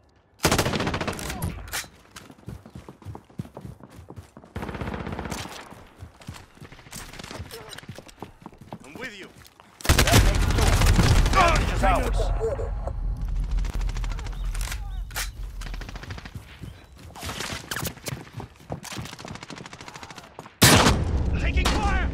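Gunfire crackles through a Call of Duty: Modern Warfare match, rapid automatic bursts and single shots in sharp clusters, loudest in a sustained barrage midway and again near the end, with voices talking between.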